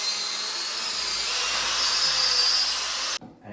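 A power drill with a paddle mixer whirs steadily at a high pitch at low speed, churning for about three seconds before cutting off abruptly, close and moderately loud.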